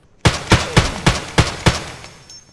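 Six loud, evenly spaced shotgun blasts from an Escape From Tarkov firefight ring out close by, each followed by a short decaying tail.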